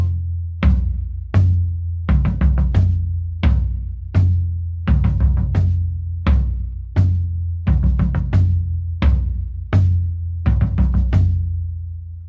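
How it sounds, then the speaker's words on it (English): A Brazilian batucada-style rhythm is played on floor toms: deep, booming drum hits in repeating syncopated groups, close and loud, with no other sounds. "the pseudo rhythm what I now want to play on and translate on my floor toms"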